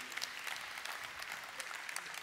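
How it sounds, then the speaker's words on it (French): Audience applause at a congress, a continuous wash of many hands clapping, fairly distant and soft, steady for the whole stretch. "Vous pouvez applaudir Frédéric Paul, c'est gentil pour lui"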